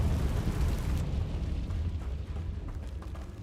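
A Confringo fire spell blast from the video game Hogwarts Legacy erupts in a deep, rumbling boom that rolls on and slowly fades, with crackling bursts above the low roar.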